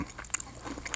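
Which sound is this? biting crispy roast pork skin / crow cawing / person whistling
biting crispy roast pork skin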